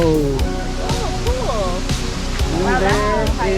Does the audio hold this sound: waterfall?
yes